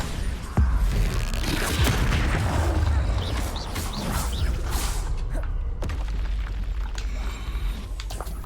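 A Bombarda explosion spell goes off in Hogwarts Legacy during a fight with a troll, a loud booming blast followed by rumbling game effects and creaks, continuing without speech.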